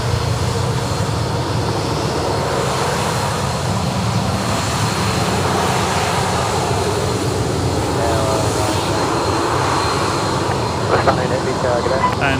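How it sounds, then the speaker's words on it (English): An Airbus A330-300 leaves Sydney Airport for Tokyo, its engines a steady, fairly loud rumbling roar with a dense low-end drone, mingled with crowd murmur and a short clatter near the end. "There goes the 330-300."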